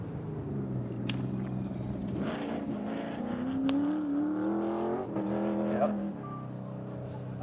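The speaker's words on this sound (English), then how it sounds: "Even from up in the sky, you can hear that engine roaring." An off-road race truck's engine roars during the San Felipe 250, a steady loud drone with rising and falling pitch as the revs swell, heard from a distance through the air with faint background chatter.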